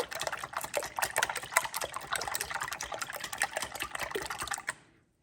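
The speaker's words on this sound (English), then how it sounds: "Just keep whisking." Egg mixture being whisked briskly in a bowl for a breakfast pizza, a steady rapid clatter of whisk against the bowl, close and continuous for about five seconds before stopping abruptly.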